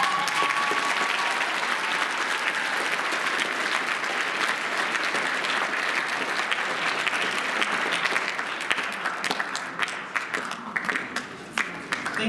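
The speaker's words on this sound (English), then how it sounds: "I feel like another round of applause would be very." Sustained audience applause at a student awards panel in a school hall, a dense wash of many hands clapping that thins toward the end into scattered individual claps.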